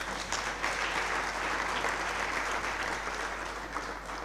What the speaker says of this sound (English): He too deserves a big round of applause.